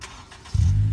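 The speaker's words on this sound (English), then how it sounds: "as is evidenced by my button press here, the car will remote start" A car engine starting by remote start, a quiet pause followed by a sudden low rumbling catch that settles into a steady idle.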